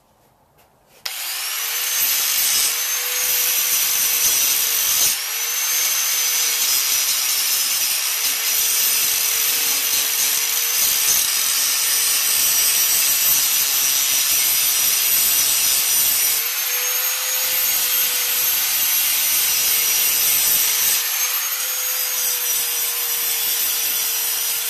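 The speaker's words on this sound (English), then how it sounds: "I'm just cleaning up the metal so I have a clean surface to weld on for my new brackets." A power tool, likely a grinder or wire wheel, cleans up a metal surface before welding: a steady, loud abrasive whir with a constant motor tone, running almost unbroken for over twenty seconds after a brief start.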